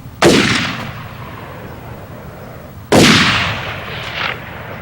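Two loud, close rifle gunshots during a police standoff, a high-powered rifle firing once, then again about three seconds later, each with a sharp crack and a long echoing decay outdoors.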